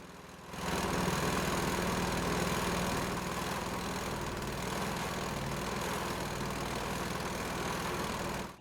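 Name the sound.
straddle tractor engine running in vineyard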